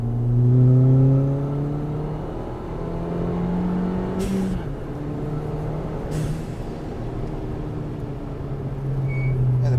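Modified Fiesta ST with full bolt-ons pulling hard through the gears on a street, engine note climbing steadily and dropping at each shift, heard from inside the cabin with no talking.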